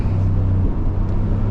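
A Ford F-150 with a loud 5.0 engine drives in morning traffic, giving a deep, steady low rumble that stays close and continuous for a brief moment.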